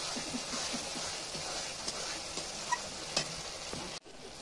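Spice paste for a mutton curry sautéed in a pan over a clay stove makes a steady close sizzle, with light stirring clicks and scrapes, then cuts off abruptly near the end.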